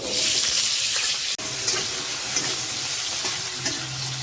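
Potatoes and cumin frying in hot oil in a wok, a loud steady sizzle with a brief break and a few soft stirring clicks.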